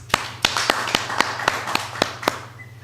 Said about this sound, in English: let us welcome Professor Orwenjo with some claps